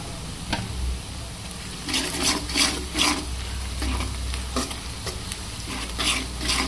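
Turmeric is stirred into cabbage and eggs frying in oil in a pan. A steady sizzle carries on beneath several bursts of scraping and stirring strokes, close and fairly loud.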